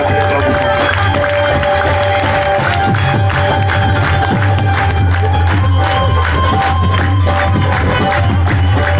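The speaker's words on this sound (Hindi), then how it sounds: "ताली बजाकर स्वागत करिए थोड़ा" A large festival audience at a devotional recital applauds and cheers to welcome Krishna's chariot, a dense, continuous wall of clapping and crowd noise filling the whole stretch at close range.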